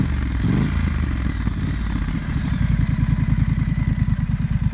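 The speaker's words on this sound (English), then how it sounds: "It's got a brushed 2-to-2 twin high exhaust, which I think sounds lovely." A Triumph Street Scrambler with a brushed two-into-two twin high exhaust idles and then revs up, producing a loud, close, rhythmic throbbing pulse from its twin-cylinder engine, with no voices present.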